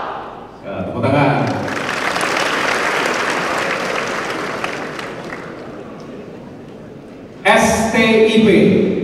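A crowd breaks into full applause just after a brief voice, keeps up steady clapping for several seconds, and then someone speaks again loudly as it dies down.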